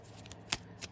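A deck of oracle cards is shuffled in a quiet room: soft riffling rustles with one sharp snap near the middle and a softer one just after, close and faint.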